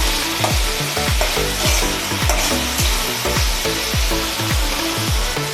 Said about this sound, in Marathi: त्याला असं पूर्ण तेलामध्ये फ्राय करून त्याला शिजवून घ्यायचं आहे आपल्याला